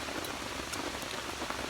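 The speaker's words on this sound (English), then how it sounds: "Ah, rain." Rain falls as a steady, even hiss of dense drops with scattered faint patters, filling a brief stretch with no voices.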